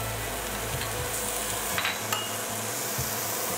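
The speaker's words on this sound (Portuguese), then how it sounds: "Agora a gente vai entrar com a cebola, vai refogar a cebola." Chopped onion sautéing in a pan for a creamy cassava soup, a steady close sizzle with a few light stirring scrapes, no talk.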